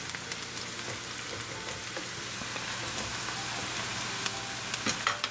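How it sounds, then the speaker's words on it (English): Onions fry in a pan over a high gas flame, sizzling continuously with scattered scraping and tapping from stirring, fairly close and loud with no talking. "It's exactly 3 minutes cooking our onion on high gas, and they are nicely transparent"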